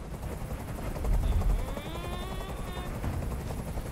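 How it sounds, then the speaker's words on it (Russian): A helicopter hovers in the video game Detroit: Become Human, its rotor chopping out a loud, steady rhythmic thrum with a whining turbine tone rising over it, filling the entire stretch. "Как же меня бесит этот звук! Прикажи им, чтобы вертолет убрался!"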